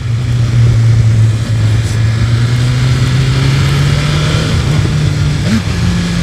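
Yamaha MT-09 motorcycle idling close by with a steady engine drone, one short throttle blip rising near the end, no talking heard.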